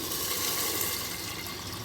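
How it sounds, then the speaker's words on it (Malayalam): Water poured into a pressure cooker over lentils makes a soft, steady splashing trickle at close range that continues evenly throughout. "കുറച്ച് വെള്ളം ഒഴിച്ച് കൊടുത്ത്"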